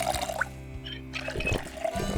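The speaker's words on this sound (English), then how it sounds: "fill our water bottle up" Water bottle being filled from a tap in the survival video game Project Zomboid, with soft pouring and trickling water that stops and starts again, fairly quiet.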